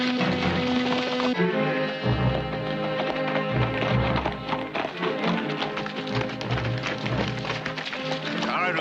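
Horse hooves clip-clopping at a steady pace beneath loud orchestral music.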